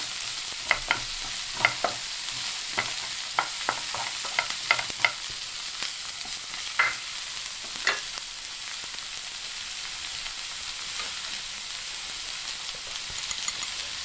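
Onions frying in hot oil and being stirred for a sour green tomato thoran: a steady sizzle runs throughout, broken by irregular scraping clicks of the spoon against the pan, with no talking.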